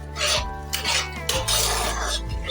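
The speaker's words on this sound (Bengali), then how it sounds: "এটা ঘন ঘন নাড়াচাড়া করতে হবে" A spoon scrapes and clinks against a pan as paneer butter masala is stirred, giving repeated short scraping strokes over a steady low hum, fairly close and loud.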